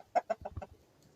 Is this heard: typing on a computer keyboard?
no